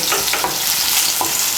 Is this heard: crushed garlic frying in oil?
yes